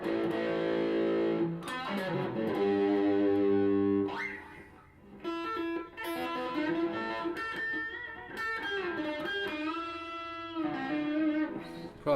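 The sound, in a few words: Gibson SG electric guitar played with distortion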